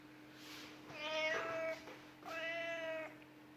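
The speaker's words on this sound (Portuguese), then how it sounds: "Tem um gato miando aqui" A cat meows twice indoors, two drawn-out tonal calls about a second apart, clear but modest in level over a faint electrical hum.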